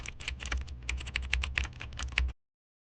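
Rapid, steady typing on a computer keyboard, a close run of crisp key clicks for about two seconds before stopping abruptly into silence.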